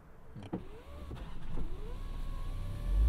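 A 2023 BMW X1 restarting its engine through auto stop-start, a short starter whir and thump followed by a rising, steady idle hum inside the cabin, with faint mechanical whines earlier.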